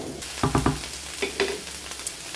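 Vegetables sizzle in melted margarine while a utensil stirs them, with a few sharp scraping knocks early on over a soft, steady frying hiss.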